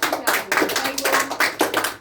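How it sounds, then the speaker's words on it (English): A small group of party game players gives a short round of clapping, with distinct claps in an uneven rhythm, close and fairly loud, and no voices over it. "Please give her a round of applause."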